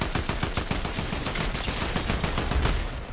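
Explosions and rapid blasts fill a video game battle, a dense burst of crackling impacts early that gives way to a continuous loud rumble, with no talking.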